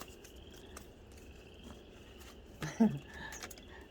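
Outdoor ambience with faint, steady trilling of frogs and scattered bird chirps, plus a brief louder burst of calls near the end.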